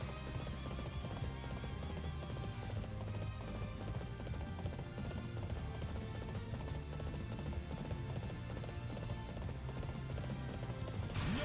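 Rhythmic hoofbeats of a galloping horse in Fire Emblem Warriors: Three Hopes pound steadily under a dense, continuous layer of game music and ambience.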